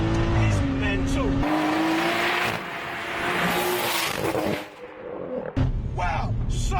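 A BMW M240i with a B58 engine and a 650 WHP turbo kit is driven hard, its engine roaring loud and steady while the tires squeal and the revs rise and fall. Someone talks over it throughout.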